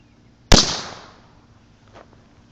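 A single firecracker goes off with one sharp, loud bang that decays over about half a second, followed later by a faint, distant pop.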